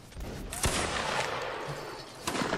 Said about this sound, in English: Oh, cannons are being fired at us.